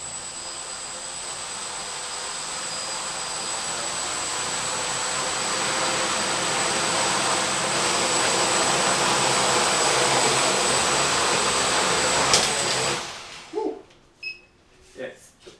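Small DIY-built drone motors and propellers whine steadily with a high, buzzing tone that swells in power, then cut out, leaving a few brief handling clicks and bumps.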